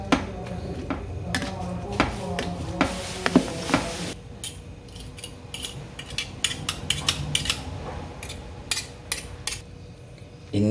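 Cooked eggplant being mashed in a pan for balado meatballs: repeated clattering taps and scrapes of a utensil against metal, busy at first then sparser, close and fairly loud with no talk.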